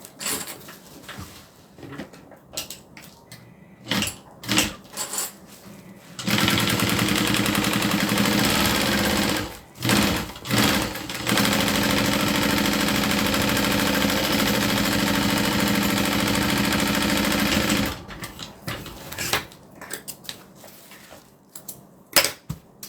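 Sewing machine quilting fabric: short stop-start bursts, then a long continuous motor whir running for several seconds, a brief pause, and another long sustained run before choppy bursts again, close and loud.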